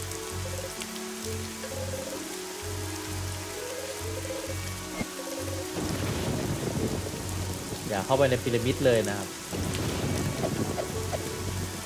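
Rain and rolling thunder in the video game Evoland 2, a steady wash of rainfall under game music, with a louder rumbling swell in the second half and someone talking over it.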